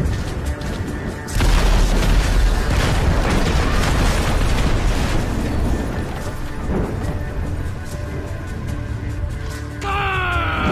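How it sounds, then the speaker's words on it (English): Fireworks explode at a party in the video game GTA V: a sudden loud boom opens a dense, sustained roar of crackling bursts and rumbling that carries on steadily, with a brief tonal whine near the end. "Nothing like some fireworks at a party."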